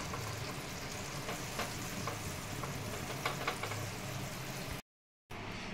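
A stuffed bread sandwich fries in melted butter in a pan, giving a steady, close sizzle that runs almost unbroken, with a short silent gap near the end.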